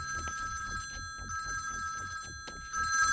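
A telephone rings with a steady electronic tone that repeats in short pulses, over a low rhythmic background.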